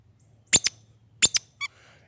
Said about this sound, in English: This is probably the best squirrel call you can make.